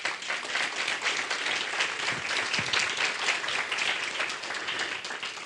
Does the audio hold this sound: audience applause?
yes